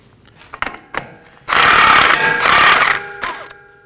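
A power tool loosens the axle nut on a 2020s Toyota Corolla with a 12.30mm socket: a few sharp metallic clicks, then a loud close rattling impact burst of about a second and a half, a short pause, and another burst.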